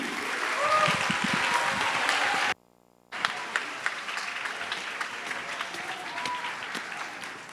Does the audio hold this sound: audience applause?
yes